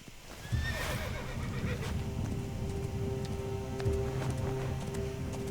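A horse whinnies once near the start, followed by a steady run of clip-clopping hooves and game music underneath.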